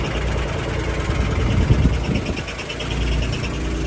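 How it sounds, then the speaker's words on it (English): A rear-mounted engine in a 1961 Chevrolet Corvair 95 Rampside idles steadily up close, a busy, slightly rattly mechanical hum like an old sewing machine, with a brief low knock near the middle. "Old Corvair motor, rear engine motor."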